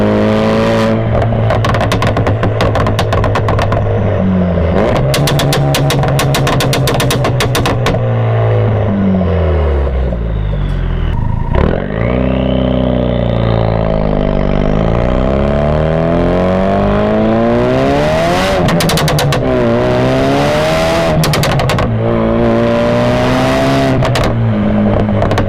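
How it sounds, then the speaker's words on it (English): A 2017 Ford Focus RS fitted with an ETS Extreme exhaust and an aggressive burble tune revs hard and accelerates, with loud rising and falling engine sweeps, crackling pops and a deep burble between pulls. "hear that Ets Extreme Exhaust with that aggressive burble tune that Adam provided me with."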